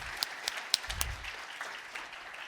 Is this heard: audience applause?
yes